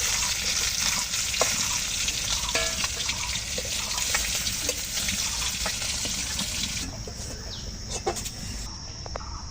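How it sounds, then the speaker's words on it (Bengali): Bata fish frying in hot oil in a kadai until reddish: a dense, continuous close sizzle with scattered crackles and pops, easing slightly toward the end as the pieces are lifted out. "মাছের কালারটা একটু লাগছে, লাল লাল করে ভাজছি।"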